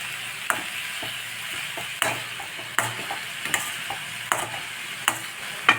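Rice being stirred and fried in a pan for pulao, with a steady soft sizzle under repeated sharp scraping strokes of a spoon against the pan, close and alone.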